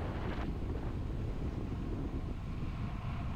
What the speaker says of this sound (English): definitely the wind is helping a little bit this way, but it's also a crosswind making it unstable